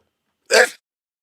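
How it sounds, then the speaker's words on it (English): A single sharp sneeze, short and loud, bursting out of otherwise total silence. "I had to sneeze"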